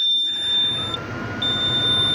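A steady high electronic beep tone from a Case MX 270 tractor warming up rings continuously over a low engine rumble, briefly cutting out once before resuming.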